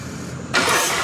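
The engine of a 2017 Harley-Davidson Road King motorcycle catches abruptly about halfway through, jumping from a low background hum to a loud, rough, steady roar close by.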